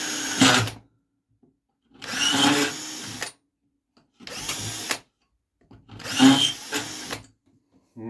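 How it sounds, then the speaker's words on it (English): A power drill drilling out a hole in a 1981 Gottlieb Mars God of War pinball machine whirs in four separate bursts of about a second each, separated by short silences, close and fairly loud. "I need to drill out this first hole."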